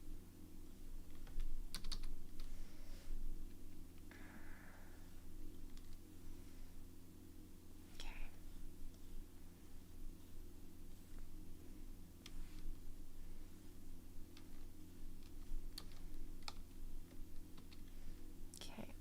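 Computer keyboard typing at a desk, soft irregular clicks in scattered bursts over a steady low electrical hum, fairly faint and off to one side.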